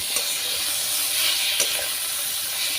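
Moringa drumstick stalks frying in hot oil while a thin summer fish curry is cooked: a steady, close sizzling hiss with a few small pops and no voices.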